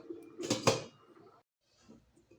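A metal lid clanks down onto a pot of cooking rice, giving two quick, close knocks at the start. Faint clatter follows, then quiet.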